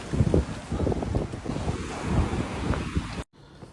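Wind buffets the microphone while surf rolls in on an ocean beach strewn with bluebottles, a loud, continuous rush of waves and gusts that cuts off abruptly near the end.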